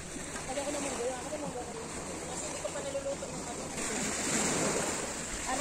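Sea waves roll onto a beach in a steady, rushing wash of surf mixed with wind noise on the microphone, while people talk faintly in the background.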